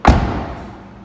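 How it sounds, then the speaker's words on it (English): A single solid thud of a 2018 Kia Stinger GT Line car door shutting, close and muffled, with a short fading resonance afterward. "Now, I like the door sound,"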